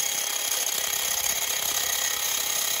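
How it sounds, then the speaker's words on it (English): A cutoff wheel grinds through part of a plastic display mount during an S866 display conversion on a Bird 2 electric scooter, giving a loud, steady, high-pitched whine without a break. No voices are heard. "I'm gonna go ahead and chop that off using a cutoff wheel"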